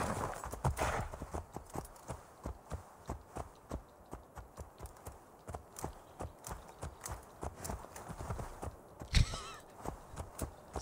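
Steady rhythmic clip-clop of horse hooves at a trotting pace, with a short whinny near the start and another brief snort later.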